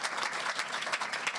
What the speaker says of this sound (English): Round of applause for Glenda now.